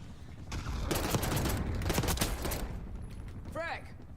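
Video game firefight with bursts of rapid gunfire and explosive crackle, loud and dense at first and then thinning out, ending with a brief electronic chirp.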